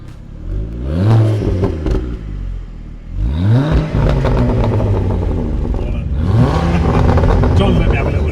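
A tuned Ford Focus ST accelerates hard in repeated pulls, the engine note climbing and dropping between gear changes with whooshing boost, heard loud from inside the car while people talk over it.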